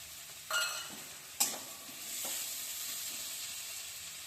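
Ginger paste hits a hot pan and is stirred, giving a steady close sizzle with a couple of sharp scraping stir strokes while a fish-head and cabbage dish is being cooked.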